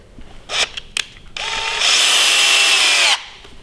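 A power driver runs screws into the gearhead of a FEIN angle grinder, with two short clicky blips and then a steady whirring burst that rises in pitch and stops abruptly, close and loud with no talking.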